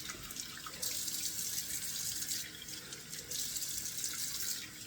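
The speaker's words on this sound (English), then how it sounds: "Now 2 splashes of cold water to rinse it off." Running tap water splashing into a sink, steady and hissy, with two brief surges as cold water is scooped and splashed to rinse off shave soap.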